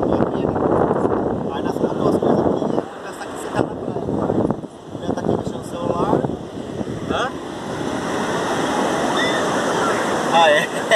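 Surf and wind roll steadily at the beach at Praia Grande, a broad wash of noise under nearby talk, and a gusty rumble hits the microphone now and then.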